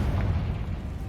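The Confringo fire spell from Hogwarts Legacy goes off as a single low, rumbling blast, heavy and full-bodied, lasting about a second.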